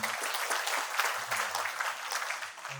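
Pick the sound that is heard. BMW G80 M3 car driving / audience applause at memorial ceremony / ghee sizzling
audience applause at memorial ceremony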